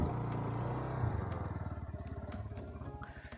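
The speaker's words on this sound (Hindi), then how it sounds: "अभी अपनी बाइक हो रही कोल्ड स्टार्ट" A motorcycle cold start: a low rough engine crank that catches and settles into a steady, pulsing idle, heard alone at moderate volume.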